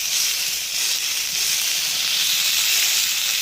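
Fish grills in a pan with a steady, bright sizzle and hiss, loud and close, carrying on without a break for a few seconds with no talking.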